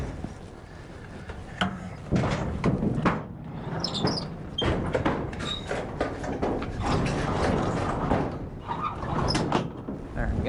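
Sliding gates and barn doors opened on a cattle farm, a run of scraping, rolling and knocking sounds up close over steady background noise, with squeaks and thuds scattered throughout and a voice talking now and then.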